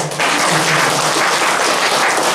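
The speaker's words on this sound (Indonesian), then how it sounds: "mohon untuk tepuk tangan" Audience applause at an SMAN 10 Semarang school assembly, a dense, steady wash of many hands clapping that fills the whole stretch at even loudness after a brief quieter start.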